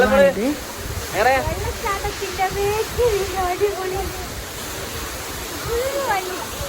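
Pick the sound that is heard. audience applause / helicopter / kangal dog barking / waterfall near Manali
waterfall near Manali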